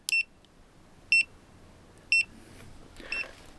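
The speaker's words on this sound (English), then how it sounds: "It also makes a beeping sound." A vehicle's blinker indicator beeps three times at an even pace, sharp and close, with faint background noise and a softer chirp at the end.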